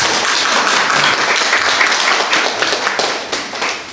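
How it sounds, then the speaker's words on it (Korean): Dense, steady applause from a seated audience at a community forum on independent living for disabled people, many hands clapping together at full volume for the whole stretch with no break. "박수 좀 부탁드리겠습니다"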